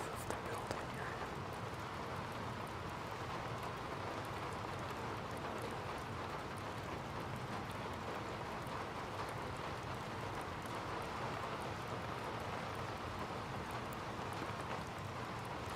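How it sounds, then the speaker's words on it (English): Steady storm rain drums on a building roof in Skyrim, a dense, even hiss of drops that holds unchanged throughout at a low, distant level with no breaks. "You're listening to the rain on the roof of the building you're in."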